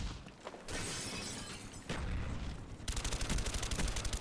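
AK assault rifle fire in Call of Duty Black Ops, firing in bursts with impacts and shattering effects and then a sustained rapid burst near the end, with no talking.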